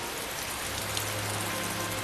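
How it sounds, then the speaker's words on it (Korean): Heavy rain pouring down, a dense, steady hiss of drops striking surfaces with a low rumble beneath, constant and enveloping for the whole short stretch. "그들이 도착하기도 전에 비가 쏟아졌고"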